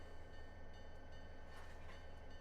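A Union Pacific SD40-2 locomotive coupled to railcars in a train simulator game gives a steady low engine rumble with faint rail noise, quiet and continuous, without speech.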